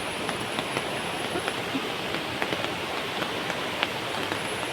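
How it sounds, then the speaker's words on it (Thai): Steady rain patters down on surfaces at a waterfall, a dense wash of droplets with scattered sharper taps, close and continuous, no voices. "ฝนกำลังตกนะคะ"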